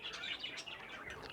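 Ornamental birds in a farm aviary chirp and tweet continuously, a dense chorus of overlapping high calls at moderate distance.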